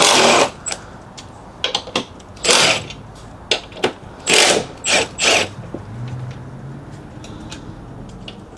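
Three E12 bolts being undone from the top of a strut on a W212 Mercedes-Benz E63 AMG, heard as a series of sharp ratcheting bursts and metallic clicks, close and fairly loud, with short pauses between them and no talk.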